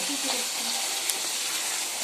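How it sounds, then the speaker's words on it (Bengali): Fish sizzles and fries in a pan with a steady, soft crackle, heard up close at moderate volume with faint clinks and no talk. "মাছ ভাজা হচ্ছে।"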